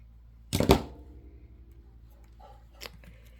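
Scissors snip through ribbon once, up close, a quick crisp crunching cut that is followed by faint rustling in an otherwise quiet room.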